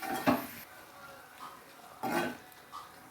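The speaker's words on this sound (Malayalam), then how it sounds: "ഇനി ഇതിൻ്റെ കൂടെ നമുക്ക് പച്ചമീൻ ഇട്ട് കൊടുക്കാം. ഇനി ഇതൊന്ന് ഇളക്കി കൊടുക്കാം." Prawns being stirred in a cooking pan for a prawn roast, heard as two quiet bursts of utensil scraping and clinking against the pan separated by a short pause, fairly faint overall.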